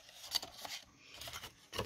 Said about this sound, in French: Et là je vais venir donc faire mes petits plis